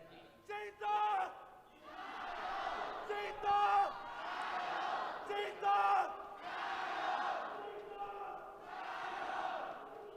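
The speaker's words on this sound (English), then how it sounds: "It's very loud coming in from the crowd as well." A loud esports arena crowd in Beijing at a League of Legends match between Suning and JD Gaming roars and cheers in swelling waves, with a caster's voice talking over the noise.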